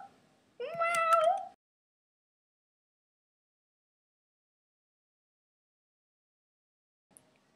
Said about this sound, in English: There was a big cat behind the door.